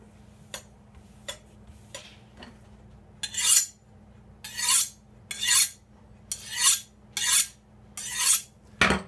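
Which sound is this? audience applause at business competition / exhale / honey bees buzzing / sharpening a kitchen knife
sharpening a kitchen knife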